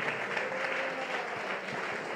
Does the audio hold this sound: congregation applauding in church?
yes